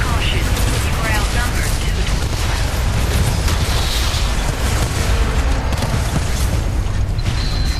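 In the Titanfall video game, a Titan's Vortex Shield catches incoming rockets and fires them back. The sound is a dense, unbroken wall of loud rocket blasts, booms and weapon fire, with heavy low rumble throughout.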